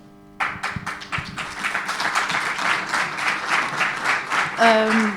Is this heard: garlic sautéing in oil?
no